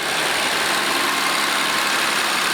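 A 1989 Nissan Skyline GT-R engine, timing belt cover removed, runs at a steady idle close by, a dense, even mechanical hum with a bright whirring edge and no breaks.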